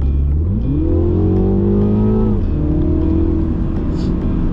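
A Mini Cooper JCW engine in dynamic mode revs up hard, pitch rising steeply for about two seconds before a paddle gear change drops it, heard loud from inside with constant rumble.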